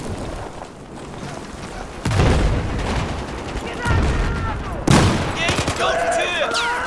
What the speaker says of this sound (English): Grenade got me.